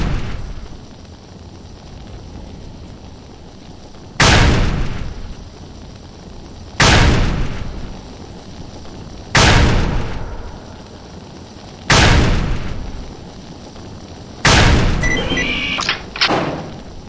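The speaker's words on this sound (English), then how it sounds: "you see something banging on the door, and then you open the door, and there's nothing there" Heavy banging on a door in the video game STALKER: Shadow of Chernobyl, a lab level: five loud, booming impacts spaced a few seconds apart, the last a quicker double thud, over a low ambient hum with no talk.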